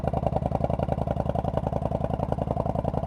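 A 1999 Yamaha V Star 1100 Custom air-cooled V-twin motorcycle idles on a cold start on a chilly morning, its loud, close, uneven lumpy pulsing steady throughout with no talking.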